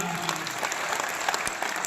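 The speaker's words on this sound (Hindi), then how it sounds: "एक बार जोरदार ताली मोदी जी के नाम" A crowd at a political rally in Haryana applauds steadily, a dense, loud wash of clapping throughout the short moment.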